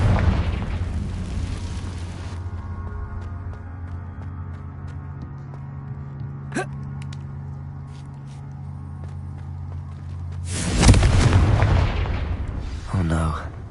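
A Confringo blasting spell explodes in Hogwarts Legacy with a loud burst near the end, following a long stretch of steady game ambience and music.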